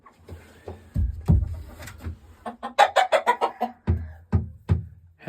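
Hens near a nest box, soft clucks and low purring calls with a quick rising run of sharper clucks in the middle, close and alone without talk.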